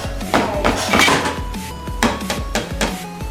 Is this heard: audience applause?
no